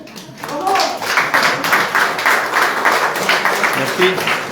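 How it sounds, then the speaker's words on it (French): Audience at an art exhibition opening claps in applause, a steady mid-distance patter of many hands lasting a few seconds with some voices faintly underneath. "Et ben on peut l'applaudir."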